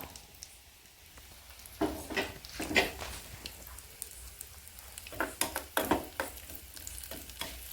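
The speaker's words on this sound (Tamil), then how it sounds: "முந்திரி திராட்சையை பொரிச்சு வச்சுக்கலாம்" Cashews and raisins frying in a pan for radish halwa, with a soft crackling sizzle under repeated scraping, clattering stirs that grow busier midway.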